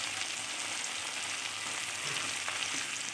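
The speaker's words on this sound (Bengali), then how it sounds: "এবার এক এক করে কপির পিসগুলো আমি ভেজে নেব" Cornflour-coated cauliflower pieces fry in hot oil for chilli cauliflower, giving a steady, loud, dense sizzle that holds evenly throughout with no voices.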